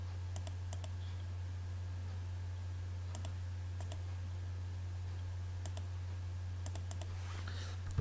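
A computer mouse clicks while a line is drawn in AutoCAD, with faint, sharp clicks in small clusters and pairs over a steady low electrical hum.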